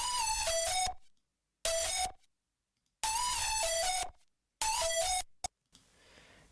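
A harsh synth lead rendered to audio with a high pass filter and OTT compression, in an FL Studio beat: bright, buzzy phrases in four bursts separated by silences, ending with a faint hiss.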